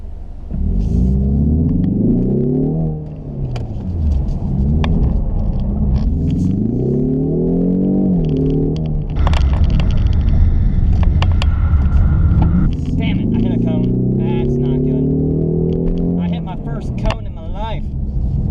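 A 2021 Ford Mustang EcoBoost driven hard on a race track, its engine loud and close, rising and falling repeatedly as it accelerates and shifts, with a voice talking over it.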